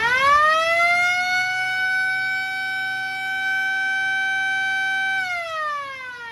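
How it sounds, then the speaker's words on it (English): Bluetooth touchdown siren on a DawgSled tailgating rig wails in a loud, steady electronic tone that rises at the start, holds for about five seconds, then drops off, with no voices. "let's start out with the Bluetooth touchdown siren."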